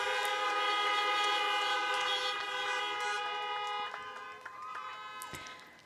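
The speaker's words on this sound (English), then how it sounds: "One more time, one more honk of approval." Car horns honk together in approval at a drive-through graduation, several sustained overlapping blasts sounding loud and then tapering off.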